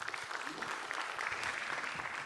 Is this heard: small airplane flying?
no